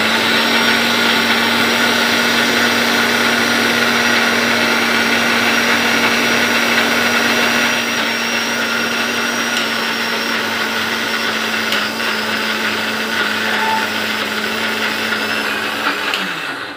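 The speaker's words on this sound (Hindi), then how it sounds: "मैं इसे मिक्सी में पीसने जा रही हूँ" A mixer grinder grinding lentils whirs steadily and loudly for the whole stretch, a constant motor drone with a high grinding whine and no pauses.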